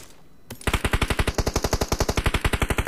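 A machine gun fires in a video game, a loud, rapid, evenly spaced burst of about two dozen shots that starts suddenly after a short quiet lead-in and runs to the end.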